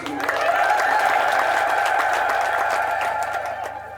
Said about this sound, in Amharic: ለዚህ ቀን ያደረሰን እግዚአብሔርን እልል ብላችሁ አመስግኑት